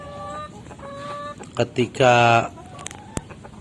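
Laying hens cluck while drinking medicated water: scattered soft clucks, then a louder burst of squawking from the flock, with a person talking nearby.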